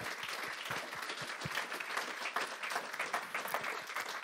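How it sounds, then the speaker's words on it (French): Audience applause at a conference introduction: a soft, continuous patter of many hands clapping, steady and somewhat distant, with no speech. "Je voudrais que vous l'applaudissiez pour moi."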